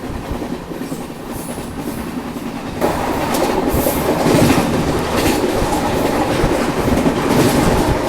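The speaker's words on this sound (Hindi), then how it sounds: "और ये किसी ट्रेन को तो ओवरटेक कर रहे हैं, शायद से LTT शालीमार एक्सप्रेस होने वाली है।" The Gondwana Express rolls past another train on an Indian railway line, a loud close rumbling roar of wheels and carriages that swells after a few seconds and stays steady, with no talking.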